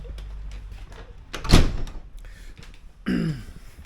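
A very old wooden door in a French renovation is pushed open, giving one loud thud or knock in the middle, then a short creaking scrape near the end, close by and with no talking.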